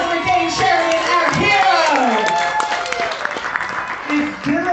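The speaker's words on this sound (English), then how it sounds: "Big round of applause for Dave Sheridan" Audience applause at a film Q&A event, a dense patter of clapping throughout, mixed with someone talking over it and some crowd voices.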